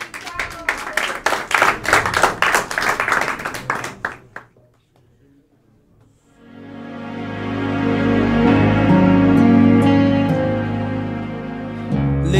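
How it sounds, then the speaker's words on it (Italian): An audience at the Festival di Roma Capitale 2024 claps briskly for about four seconds before the applause fades away, then music with sustained tones begins. "Un applauso."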